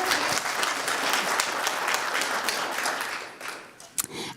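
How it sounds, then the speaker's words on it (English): Audience applause at a school assembly, a dense wash of many hands clapping steadily, then thinning out with a few scattered final claps near the end. "One more round of applause"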